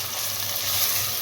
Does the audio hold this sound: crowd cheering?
no